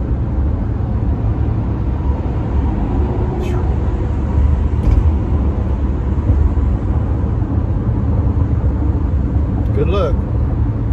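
Road noise from inside a vehicle on a busy highway, a steady low rumble with a car gradually passing alongside in heavy traffic, with a couple of faint clicks and no talking.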